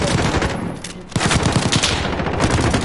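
Rapid automatic gunfire from a close-range gun in the Call of Duty video game, dense and loud, with a brief lull near the start before a sustained burst of shots.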